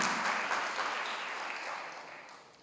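A church congregation claps in applause during Sunday Mass, a short burst of dense, fairly loud clapping that fades slightly toward the end.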